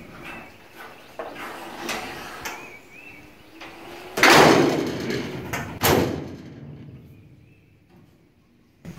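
Hood of a 1966 Ford Bronco swinging shut on its hood prop, with creaks and metal rattles, then two loud close slams a couple of seconds apart, followed by fading ringing.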